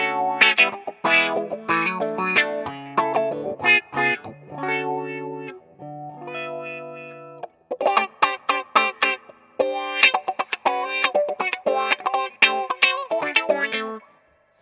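A Vox wah pedal on electric guitar with reverb: distorted chords and quick riffs sweep in sharp, vocal-like tone swells, broken by short pauses and ringing sustained notes.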